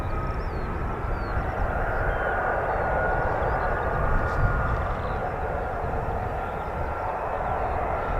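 A broad, steady roar of F-35B stealth fighter jets flying at RAF Marham fills the air, sustained and fairly loud throughout with no talking.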